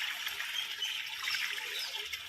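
Water trickles steadily as it is poured into a homemade clay mixture, a soft continuous hiss with no talk over it.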